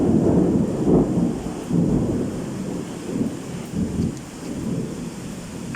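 Thunder rumbles through a rainstorm, several deep rolling peals rising and fading over steady rain hiss, fairly close and loud, with no talking.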